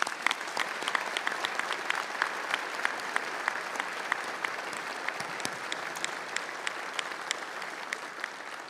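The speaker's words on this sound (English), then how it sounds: "Let's give them a round of applause." Audience at the Jackson-Madison County Sports Hall of Fame 2025 ceremony giving inductees a sustained round of applause, dense steady clapping from a large crowd with sharper individual claps standing out throughout.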